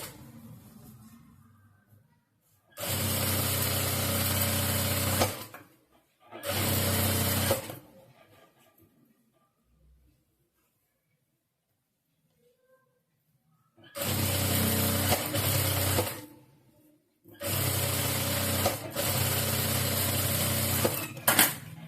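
A sewing machine stitches blouse lining in four loud, close bursts of rapid whirring, each lasting a few seconds, separated by quiet pauses.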